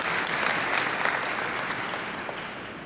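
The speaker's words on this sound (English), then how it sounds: "give yourselves a round of applause" An audience at the ACTE National Convention claps together in dense, steady applause, close and sustained, tapering off slightly toward the end.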